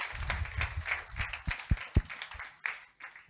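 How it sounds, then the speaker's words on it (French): A church congregation applauding, a brief patch of scattered hand claps with a few sharper, louder claps standing out, fairly close and thinning toward the end. "Acclame pour le Seigneur Jésus-Christ."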